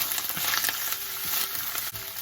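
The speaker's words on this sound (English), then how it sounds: "In a preheated pot, I'm going to first add the oil. To this I'm going to add in the ginger garlic, and we're going to add the onions." Onions with ginger garlic sizzling in hot oil in a preheated pot, a dense continuous close sizzle with occasional spoon knocks, no voices.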